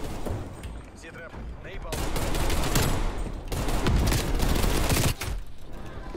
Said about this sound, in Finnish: Täällä jossain ampuu.